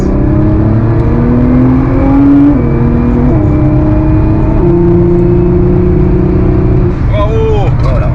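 A Nissan GT-R sports car engine revs and accelerates loudly and close, its pitch climbing through gear changes, while voices talk under the engine noise.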